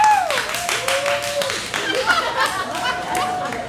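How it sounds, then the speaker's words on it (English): A few women in a comedy club audience clap loudly and sparsely, their claps sharp and close while a comedian's voice talks over them. "Just 3 women who can clap really loud."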